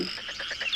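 A frog croaks in one short burst of rapid, rasping pulses, heard alone and fairly close.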